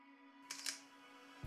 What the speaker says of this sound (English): So I go back to my Daleks here and I go and take a photograph just to see.